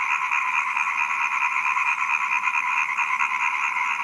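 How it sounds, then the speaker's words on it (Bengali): Frogs call together after a rainfall, their croaks merging into a steady, loud buzzing chorus that never lets up, with no voices present. "শুনতে পাচ্ছেন কি বন্ধুরা ব্যাঙের ডাক"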